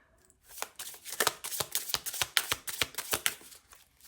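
A deck of tarot cards is shuffled in a quick run of crisp, rhythmic riffling flicks lasting a few seconds, close and fairly quiet, with no talking.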